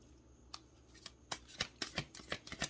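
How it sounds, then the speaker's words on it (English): A deck of cards is shuffled by hand, quiet at first with a few soft flicks, then a run of quick riffling bursts close by, with no talking. "And you see me shuffling."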